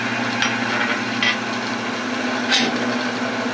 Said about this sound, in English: with the David Ellsworth gouge, freshly sharpened, clean up the inside